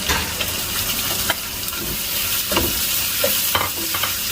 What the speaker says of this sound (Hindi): गार्लिक थोड़ा सा ब्राउन हो गया तो अभी मैं इसमें शामिल करूंगा 300 ग्राम चिकन।